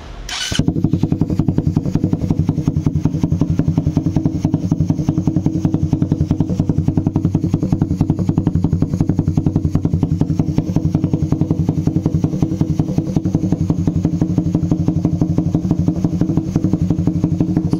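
Raider 150 motorcycle fitted with a Kou exhaust pipe, started with a quick burst and then idling steadily, a loud, close, throbbing engine note that runs alone and evenly.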